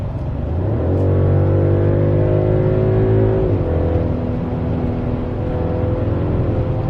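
A Mercedes GLE 53 AMG engine in sport mode revs and accelerates, its loud, steady drone climbing in pitch, dipping briefly, then holding a strong even roar throughout.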